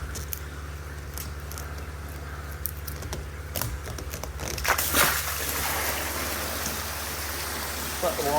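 Water drains out of a newly installed mid-size Japanese koi pond filter through a 2-inch outlet, a steady rushing splash that rises in intensity partway through, with a voice speaking over it at moments.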